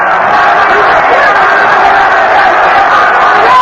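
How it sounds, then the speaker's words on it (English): Spectators roar continuously at the 1982 Aaron Pryor vs Alexis Arguello boxing match, a loud, dense crowd wash that holds steady throughout with a commentator talking over it. "Crowd really into this fight, as you can hear."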